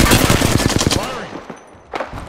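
Apex Legends gunfire sounds as a fast, loud burst of automatic shots lasting about a second, followed by a brief lull and then a lone sharp crack.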